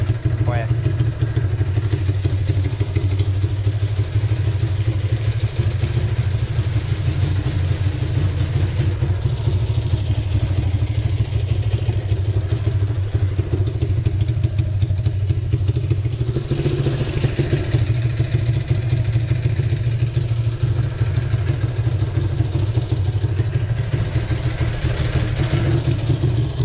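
Yamaha Lagenda motorcycle running just after a 63mm engine install, a loud steady idle with a clattering mechanical tick throughout and occasional revs, with people talking over it.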